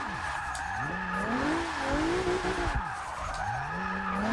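Tires of an all-wheel-drive Ford Fiesta squeal continuously as it drifts in Forza Motorsport 6, with the engine note sweeping up and down beneath the steady, loud skid throughout.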